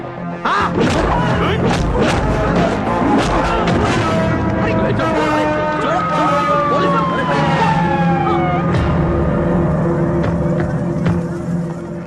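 Police jeep siren in a Mumbai mafia comedy scene, a loud wailing tone that sweeps up and down for several seconds over dense crowd noise and music.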